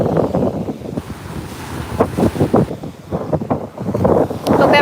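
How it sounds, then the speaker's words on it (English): Ocean surf breaks along the shore as a storm approaches, loud rolling waves with gusty wind buffeting the microphone, surging in repeated bursts. "You can see the waves."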